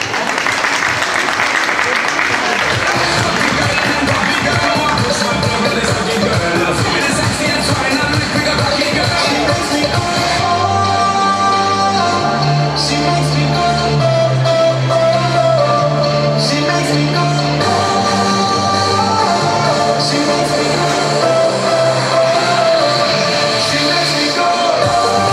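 Applause from an audience at a TEX clothing fashion show, a continuous dense clapping that runs throughout, with music and a presenter's voice over it in French.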